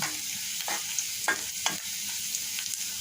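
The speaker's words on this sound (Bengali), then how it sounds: "কড়াইতে সরিষার তেল আর পেঁয়াজ রসুন দিয়ে দিয়েছি ফোড়ন দেওয়ার জন্য" Onion and garlic frying in mustard oil in a wok, a steady soft sizzle with a few scraping stirs over about three seconds, no voices.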